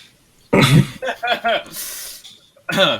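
A single sharp cough bursts out, followed by a few short spoken sounds and another quick outburst.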